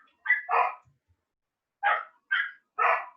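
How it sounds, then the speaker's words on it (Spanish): A dog barks in short sharp bursts, two quick barks, a pause, then three more in steady rhythm, fairly close and clear with no voices over them. "activa absolutamente a todos los perros que están a 2 cuadras a la redonda. Entonces se ponen a ladrar"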